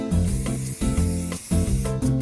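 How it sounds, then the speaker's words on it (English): Gold spray paint hisses from an aerosol can onto a plastic protein powder jar outdoors in short bursts with brief pauses, close and loud, under a bed of background music. "I take it outside and hit it with a coat of gold spray paint."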